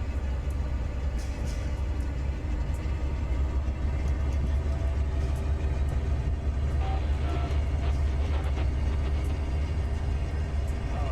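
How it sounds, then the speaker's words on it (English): A long BNSF freight train rolls through Cajon Pass toward San Bernardino in Train Simulator 2020, a steady low rumble with wheel and rail noise throughout and faint higher clicks, continuous and fairly loud. "A nice long train."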